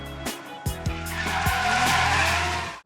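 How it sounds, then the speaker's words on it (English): A JX100 drifts at Ebisu Circuit's Nishi course, engine revving hard with a few sharp throttle blips before loud, sustained tire squeal and skidding fill the rest, close and continuous with no talk. "So out here drifting with the JX100 on Nishi"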